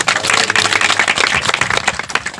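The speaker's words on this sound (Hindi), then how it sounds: "ताली बजा के उसकी महिमा करें" Church congregation clapping hands together in praise during a Hindi-language sermon, a dense, steady patter of many palms filling the room at close range.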